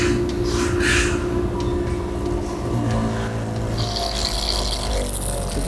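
A MOLLAR SGLD16-GT 16-liter motorized plant pest sprayer runs continuously after being switched on, giving a steady close pump and motor hum with a brief hiss near the end.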